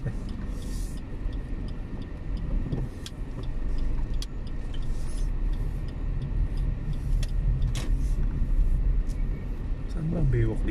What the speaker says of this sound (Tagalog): Dito ang tricycle.